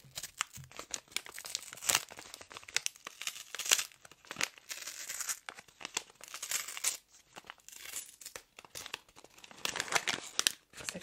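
Crinkly paper and plastic wrapping on a hotel tea bag is handled and torn open up close. The rustling and tearing come in uneven bursts, with short pauses between them.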